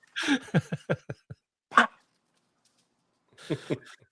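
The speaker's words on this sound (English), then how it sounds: "What are you guys barking at?" Dogs bark in a rapid string of sharp, close yaps, then fall quiet before a second short burst of barking; a voice is heard briefly among them.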